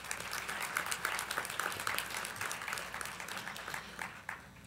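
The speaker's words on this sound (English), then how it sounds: "Let's hear a round of applause." An audience claps in sustained, dense applause, many hands at once filling the room evenly throughout.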